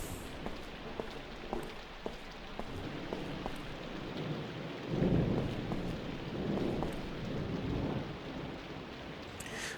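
Steady rain patters in the horror video game White Day, set at a school at night, while low rumbles of thunder roll in midway, swelling and fading over the constant downpour.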